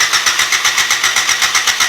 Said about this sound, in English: we're gonna turn it on, let the oil circulate, and then we're gonna try and start it